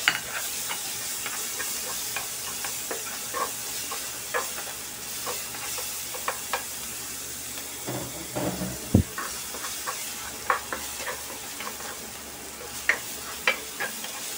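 Garlic fries in a wok for fried rice, a steady close sizzle with scattered spatula scrapes and clinks as it is stirred.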